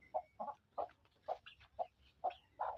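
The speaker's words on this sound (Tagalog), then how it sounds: "Uy, nanggawas ang mga manok." Several chickens on a small mini farm cluck in a steady series of short, close calls, about seven bursts spaced evenly, with no talking.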